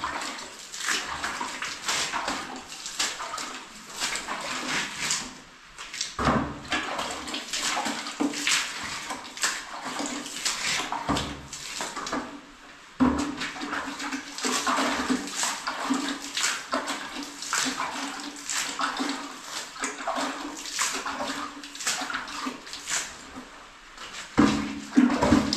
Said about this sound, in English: I'm actually putting more and more water